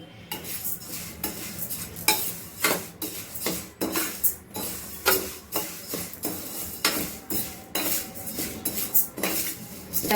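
Barley grains dry-roasting in a pan, stirred with a metal spoon: repeated close scraping and clinking strokes against the pan in an uneven rhythm, with a faint rustle of grains between them.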